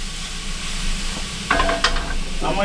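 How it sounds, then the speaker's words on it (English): Peppers, squash and green tomato sauté in a hot pan with a steady low sizzle, while a utensil stirs and scrapes through the vegetables in a few close, brisk bursts. "So I'm going to stir this around a little bit more."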